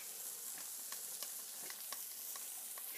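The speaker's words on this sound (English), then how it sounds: "There's sausage going." Sausage sizzles in a pan for breakfast with biscuits, a steady close frying hiss broken by small crackles and pops, heard alone with no talking.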